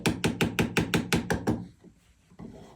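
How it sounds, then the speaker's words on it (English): A nylon hammer taps a jewellery bezel down around a set stone, giving about eight quick, evenly spaced sharp taps close by, then a short quiet pause with faint handling. "round the perimeter, gently tap in the top of the bezel like this"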